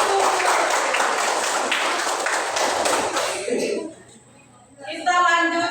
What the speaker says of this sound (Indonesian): Oke, tepuk tangan kelompok 1